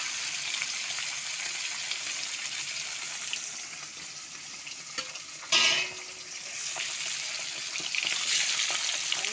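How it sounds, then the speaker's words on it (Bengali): Bhola fish pieces frying in mustard oil in an iron kadai, giving a continuous close sizzle with light crackling and a brief louder clatter and spatter midway as the fish is moved, with no voices. "ভোলা মাছটা ভাজা হয়ে গেছে, এটা তুলে নেবো।"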